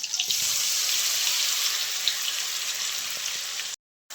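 Garlic and chopped green chili hit hot oil with cumin already crackling in it, giving a steady, close hiss and sizzle with faint pops. It ends with a brief cut to silence.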